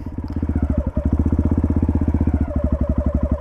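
A dirt bike engine idles with a steady, rapid thumping pulse, loud and close, running evenly and almost purring with no voices over it.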